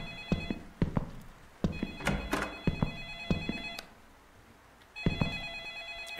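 A telephone rings in a dark night-time video game scene, its bright electronic trill repeating in bursts, interrupted by heavy thunks and knocks like a door closing, then stopping briefly before ringing again.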